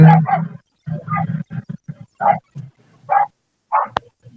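Several dogs bark in a fantasy online game dungeon battle, a run of loud, clipped barks and growls coming in irregular bursts, with a sharp click near the end.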